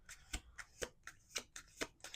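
Cards are shuffled in quick repeated riffles, about eight sharp bursts in an even rhythm, close and fairly quiet.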